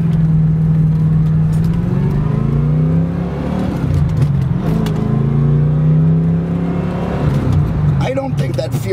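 A 1986 Corvette C4 with Tuned Port Injection and a 4+3 manual gearbox drives through morning traffic, its engine droning steadily and rising and falling in revs through shifts, loud and close from inside the cabin.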